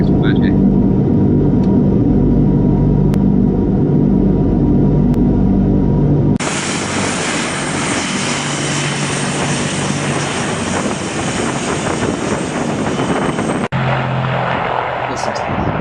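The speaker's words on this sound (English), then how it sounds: "The engine starting." A Russian Bear aircraft's engine runs up with a loud, heavy rumble and a propeller drone, then shifts abruptly to a brighter, broadband roar that carries for several seconds before dropping back to a lower engine sound.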